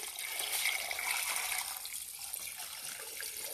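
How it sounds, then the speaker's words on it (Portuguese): Water pours steadily into a pot of rib stew, a continuous splashing rush that stays close and fairly loud before easing slightly toward the end. "Vou colocar aqui a água, ó,"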